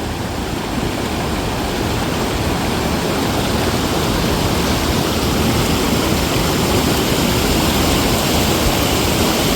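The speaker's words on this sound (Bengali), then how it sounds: "আমি আবার দেখাই আপনাদেরকে সেই ঘাগরা জলপ্রপাতের জলটা যেখান থেকে আসছে" Water pours over Ghagra waterfall in Belpahari, a loud, dense, unbroken roar of rushing water heard close up with no voices.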